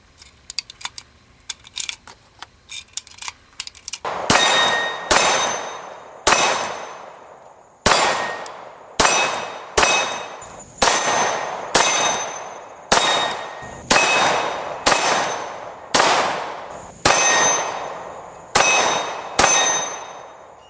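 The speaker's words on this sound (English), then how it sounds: "let's go out to the range and put some rounds through this classic" CZ 75 B 9mm pistol fired at a shooting range: about fourteen sharp, loud shots with ringing decay, in an uneven steady rhythm, after a few quiet handling clicks.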